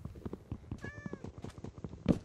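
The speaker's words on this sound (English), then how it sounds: "Was that a cat?" A cat in the video game Minecraft gives a single clear meow near the middle, amid quiet clicks and game sounds, with no speech.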